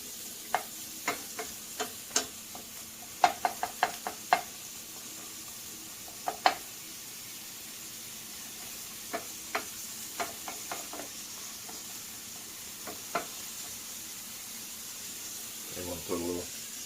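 Onions sauté in a pan on a stovetop while preparing a healthy pizza, with a faint, steady sizzle under scattered sharp ticks and taps of a utensil, and brief speech near the end.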